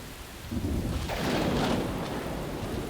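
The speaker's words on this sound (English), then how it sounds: "Uh-oh! It's a storm! Everybody out of the pool!" Cartoon thunderstorm effect: a rolling rumble of thunder swells in after a quiet start, with steady rain hiss running loud and close through the rest, no voices.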